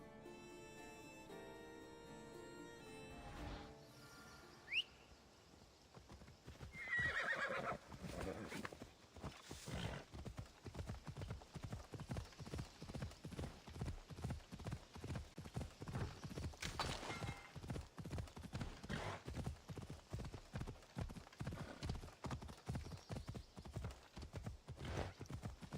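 A horse in the video game Assassin's Creed Odyssey neighs, then breaks into a steady gallop with rhythmic, thudding hoofbeats that continue without talking.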